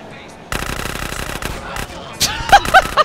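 Gunfire during a drive-by shooting in GTA San Andreas: a burst of rapid automatic shots begins suddenly and rattles on, followed by a few sharper cracks near the end, with a voice audible among them.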